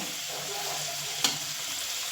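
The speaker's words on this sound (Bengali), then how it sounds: "আলুটা কিন্তু ভালো করে ভেজে নিলাম" Potatoes sizzle steadily in hot oil in a pan, a close, even frying hiss with one sharp clink of a utensil partway through.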